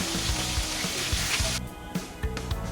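Chicken pieces dropped into hot mustard oil over high heat give a loud, dense sizzle that fills the first part, then eases, with a few soft knocks and scrapes of a utensil against the pan.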